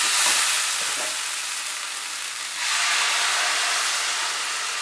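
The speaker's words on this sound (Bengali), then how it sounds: "2 কাপ আমি জল অ্যাড করলাম।" Water poured into sizzling masoor dal cooked with spices in a pan on high flame, a loud steady hiss of frying and steam that briefly dips, then surges back.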